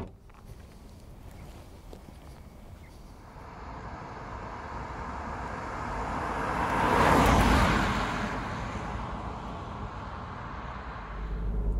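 An Opel Crossland 1.2 Turbo car driving on a road, a steady interior rumble of engine and tyre noise that gradually swells to a louder passing whoosh around the middle and then eases back, with no talking.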